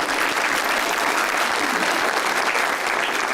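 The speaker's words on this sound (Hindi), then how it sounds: "उनके पीछे वाले ने जो ताली बजाई है" Studio audience at a Pakistani Eid talk show bursts into steady, dense applause, a continuous wash of many hands clapping throughout.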